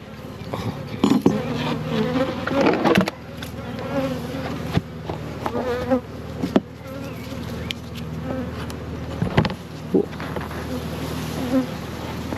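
Honey bees buzz densely around an open two-box hive of twenty frames, a close, steady swarm drone with individual bees zipping past and occasional handling knocks.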